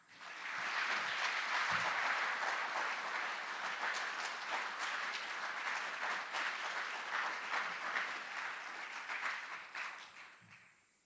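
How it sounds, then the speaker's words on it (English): Applause for drill sergeants and instructors at an Army aviation graduation ceremony at Fort Eustis: a large crowd claps steadily in a big space, rising quickly, holding full for several seconds, then fading away at the end. "Please join us in giving a round of applause to these outstanding drill sergeants and instructors"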